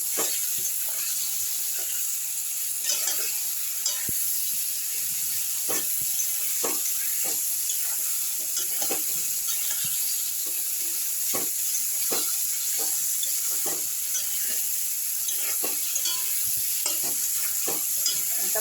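Steady frying sizzle of fish curry ingredients in a pan, rohu fish for a thin summer curry, with irregular scraping stir strokes from a spatula spread throughout, close and continuous with no talk.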